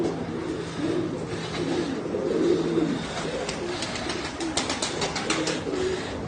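Domestic pigeons coo steadily throughout, soft low calls overlapping from several birds close by, with a few sharper chirps and faint background noise, no talk.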